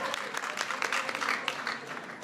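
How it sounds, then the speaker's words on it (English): An indoor audience at a Hanukkah reception claps for Jason Furman, a dense, steady burst of many hands at moderate loudness without a break. "So give Jason a big round of applause."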